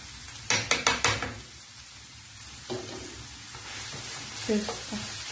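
Vegetable filling being stirred and fried in a pan: a quick run of spoon scrapes and knocks against the metal, then a steady soft sizzle with a few further stirs, heard close up.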